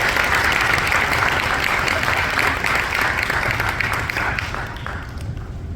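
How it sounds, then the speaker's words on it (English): An audience at an elementary school 5th grade winter concert claps in sustained applause, a dense, loud wash of hands that holds steady and then eases slightly toward the end. "a huge round of applause for Ms."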